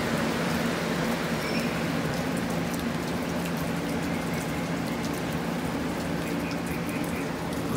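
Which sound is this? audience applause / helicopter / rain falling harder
rain falling harder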